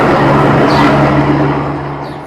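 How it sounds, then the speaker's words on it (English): Steady ambient road traffic, a loud continuous broadband wash of passing vehicles with a low engine hum, heard alone without talk and easing slightly toward the end. "It's just ambient traffic."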